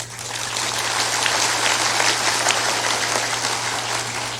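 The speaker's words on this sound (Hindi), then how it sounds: "थोड़ा जोरदार ताली बजाया करो" Satsang audience in Banka, Bihar clapping together: a dense, steady wash of applause that holds evenly for several seconds with no pauses, under a constant low hum.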